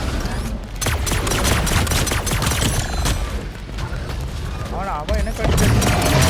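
Rapid bursts of gunfire and booming blasts from a Fortnite match fill the whole stretch, dense and loud, with a voice talking over the shooting.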